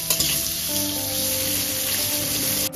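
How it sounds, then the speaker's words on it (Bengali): Chopped carrot fries in a pan with golden-browned garlic and ginger over a medium gas flame, a steady, close, dense sizzle with faint stirring and no voices. "যখন রসুনটা এবং আদাটা একদম গোল্ডেন ব্রাউন হয়ে আসবে তখন দিয়ে দেবো গাজর কুচি। গাজরটাকেও এবার ভেজে নেব।"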